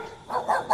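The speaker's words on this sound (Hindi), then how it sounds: "ये कुत्ते क्यों भौंक रहे हैं?" Dogs bark in a small, fairly faint cluster of three quick yaps, sounding somewhat distant.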